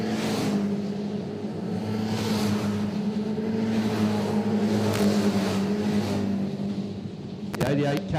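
Race cars roar steadily around the Ashburton speedway oval in New Zealand during a CTRA title race, a loud, continuous engine drone with close pursuit through the turns and a commentator talking over it.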